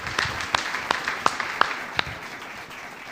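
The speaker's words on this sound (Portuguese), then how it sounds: "uma salva de palmas ao Espírito Santo que dá tanta sabedoria e revelação" Sparse, scattered clapping from a church congregation, a handful of separate claps at uneven intervals rather than a full round of applause.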